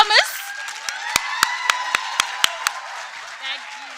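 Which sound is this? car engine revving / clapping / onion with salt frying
clapping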